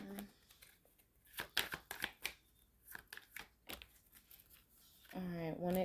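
A deck of tarot cards being shuffled close by in a series of crisp riffling and snapping bursts, then a voice speaking briefly at the end.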